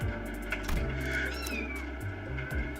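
A cat meows and caterwauls several times over a steady low background hum. No one speaks.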